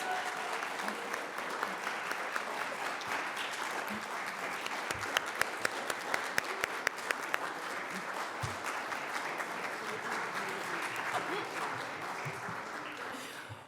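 A sustained, full round of applause for panelists at a Bloomington Black History Month kick-off event, with many hands clapping steadily for over ten seconds and a few sharp, nearby claps standing out midway.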